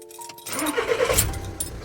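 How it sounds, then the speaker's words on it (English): A Seat Leon's engine cranks and catches close by after a near-silent moment, then settles into a steady running rumble with a faint jingle of keys. "And if I start the engine"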